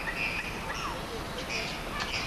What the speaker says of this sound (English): There's the Australian magpie.